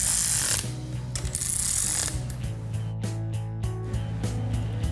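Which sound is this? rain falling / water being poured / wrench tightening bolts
wrench tightening bolts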